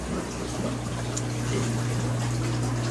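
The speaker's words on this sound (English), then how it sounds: "keep that water flowing into that standpipe" Water flows steadily into a garden aquaponics standpipe, a continuous close trickling and gurgling over a low droning hum.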